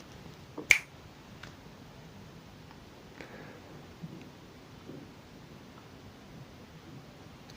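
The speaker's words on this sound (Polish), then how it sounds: "Tak się stanie, kiedy pstryknę palcem" A single sharp finger snap rings out close by early on, then a few faint clicks follow over a soft, steady background hiss in a quiet, soft-spoken setting.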